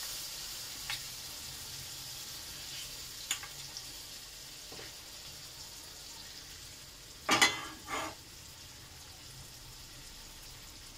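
Fish cook in hot oil with a soft, steady sizzle heard from a little distance, broken by a few brief clicks and one short louder burst of spattering or stirring.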